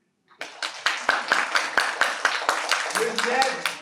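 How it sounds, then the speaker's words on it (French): Audience applause with clapping rising into a steady, lively burst from a group, loud and close, while a few voices call out near the end. "Vous pouvez applaudir pour vous?"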